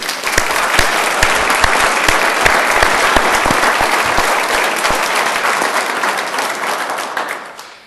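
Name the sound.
audience applause at awards program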